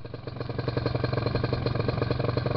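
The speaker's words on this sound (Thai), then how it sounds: "วันนี้ มีการทดสอบ สมรรถนะของเครื่องยนต์" A newly built engine runs steadily outdoors at a training ground during a performance test before field use, a close, even mid-pitched drone with rapid regular pulsing and no talk.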